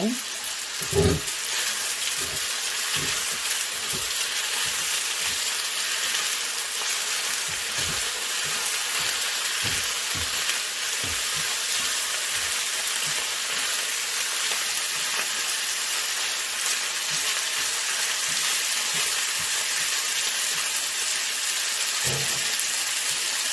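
Tuna tsuyu pasta sizzles steadily in a pan with oil, a constant bright frying hiss broken by occasional soft clinks and pops, close and alone without talk.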